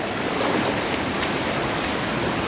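A river in Chalatenango flows with a steady, broad rushing wash of water, close and constant, with no voices.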